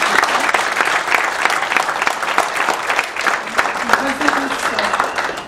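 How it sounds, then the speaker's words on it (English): An audience claps throughout in sustained, dense applause at a business talk, steady and fairly loud, with a voice briefly audible beneath it. "big round of applause"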